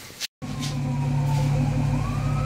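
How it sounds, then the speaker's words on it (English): A siren wails steadily at a distance, its tone slowly rising, over a low, constant rumble. "Mrs. Heavy Chevy's pulling in and I hear a siren"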